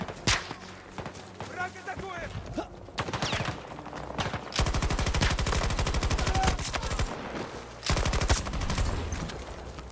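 Bursts of automatic gunfire and rapid shots ring out in a Battlefield video game firefight, dense volleys alternating with short gaps, loud and close, with sparse talk underneath.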